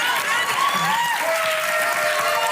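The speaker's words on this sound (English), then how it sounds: "Standing ovation from the crowd." A studio audience gives a standing ovation: steady, dense applause filling the room at an even level, with scattered cheers and voices riding over the clapping.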